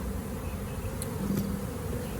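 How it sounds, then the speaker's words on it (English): Dense, continuous buzzing of a honeybee swarm, loud and close, a steady drone with no pauses. "worker bees have their abdomens up like this, and they're fanning a pheromone"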